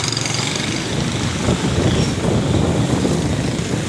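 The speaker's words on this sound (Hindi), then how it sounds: "देखे मोटरसाइकिलों की आमद रफ्त देखे।" Motorcycles stream past in jammed traffic in the Teen Hatti area of Karachi, their engines forming a steady close rumble with small surges as bikes go by.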